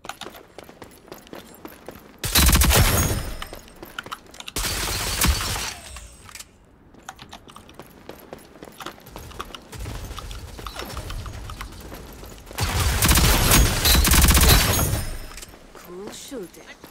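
Automatic gunfire rattles in the video game Rogue Company in several loud bursts of a few seconds each, mixed with game effects and players talking.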